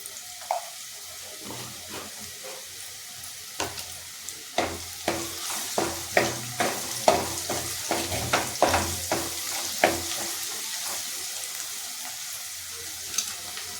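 Asafoetida dropped into hot oil for Marathi masoor dal amti gives a steady sizzle, with a run of sharp stirring clicks and scrapes in the middle, close and moderately loud.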